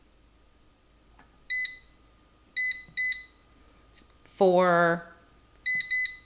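Air fryer control panel beeping as it is set: short electronic beeps in pairs and singles, clear and close, with a brief rising chirp in between and a faint spoken word.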